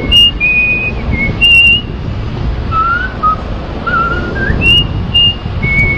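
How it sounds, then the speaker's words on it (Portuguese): Someone whistles a wavering melody close to the microphone, with sliding tones and short pauses over light background noise. "Isso é um bom assobiador, viu?"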